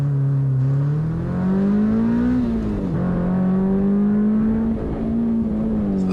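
A Honda S2000 CR prepared for CSP class works smoothly through an autocross slalom, its engine droning steadily loud with rising and falling revs and no talk throughout.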